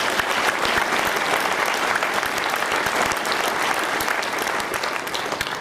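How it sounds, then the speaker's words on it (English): Sustained applause from a banquet audience at a fundraising dinner fills the room with dense, even clapping that holds steady throughout and tapers slightly at the very end, with no voices on top. "I think he deserves a round of applause"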